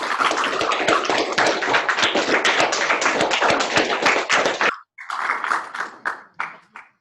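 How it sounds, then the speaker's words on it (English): A live audience gives a dense, sustained round of applause for Pro Football Hall of Famer Curley Culp, steady and loud, then cutting off and resuming as scattered, thinning claps. "Thank you very much for that applause."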